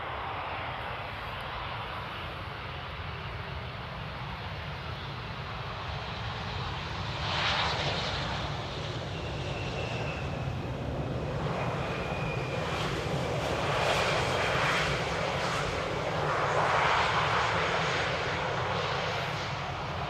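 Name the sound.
airliner landing in rain, final flare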